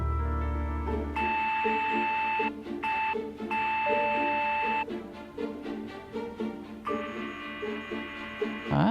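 Electronic beeps from the adventure game Syberia: The World Before sound in a series of steady tones with gaps between them, some long and some short, over a busy layered game backdrop.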